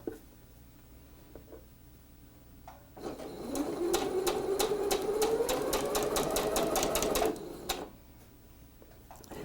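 Sewing machine stitching quilt rows together for a snowflake table runner, running in one steady rapid burst of about five seconds with rising motor whir, between quieter moments of handling fabric.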